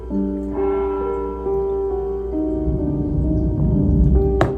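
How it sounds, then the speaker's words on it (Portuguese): A church bell rings with a long, sustained resonant tone that hangs and slowly fades, steady hum beneath, ending in a sharp clatter. "O sino da igreja a gente bateu."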